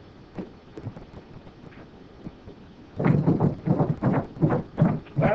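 Horse hooves clip-clopping in a 1932 western serial, a few soft scattered steps at first, then a loud, close, rhythmic run of hoofbeats over a light outdoor wind.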